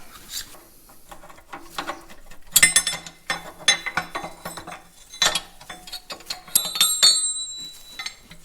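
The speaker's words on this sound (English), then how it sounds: "we can withdraw the rail, withdraw the fork, and repeat" A steel shift rail and fork being withdrawn from a Caterpillar D2 crawler tractor transmission during a chassis rebuild, with scattered metallic clinks, scraping and ringing knocks in irregular bursts between quieter pauses.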